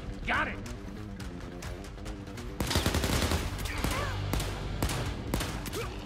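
Gunfire in the zombie shooter Overkill's The Walking Dead, with rapid shots and impacts cracking through dense, continuous game noise and music, growing louder and busier in the second half.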